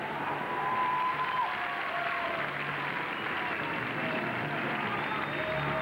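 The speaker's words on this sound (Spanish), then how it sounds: "me parece que se merecen un aplauso" An audience at the Miss Costa Rica 2005 beauty pageant applauds in a continuous wash of clapping, with faint crowd murmur and a few whistles drifting through.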